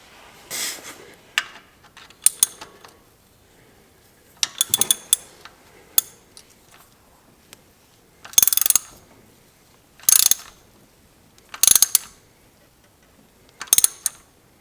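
A ratchet tightens the oil drain bolt on an ATV during an oil change, with about seven short bursts of sharp mechanical clicking spread across the span, loud and close with quiet gaps between strokes.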